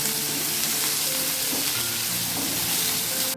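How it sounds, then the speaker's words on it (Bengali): Chopped onions frying in oil in a pan, a loud, close, continuous sizzle with faint stirring clatter and no voices. "পর ওই তেলে পেঁয়াজ কুচি দিয়ে দিচ্ছে এবং তেলের তরকারিটা করে নেবে"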